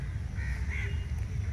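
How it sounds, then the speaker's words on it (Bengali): Crows caw near a Shiva temple by the Ganges at Batanagar, a couple of harsh calls standing out over a steady low outdoor rumble. "অরিজিনাল পাখিদের কণ্ঠস্বর"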